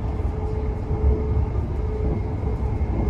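A Greater Anglia Class 720 electric train nears Broxbourne, heard from inside as a steady loud low rumble with a faint whine, continuous throughout.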